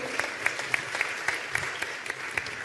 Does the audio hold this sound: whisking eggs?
no